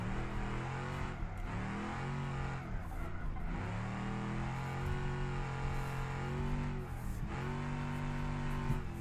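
A low-powered drift car's engine held at the top of the rev range as it slides, making a steady loud drone with brief dips and rises in pitch and some tire noise.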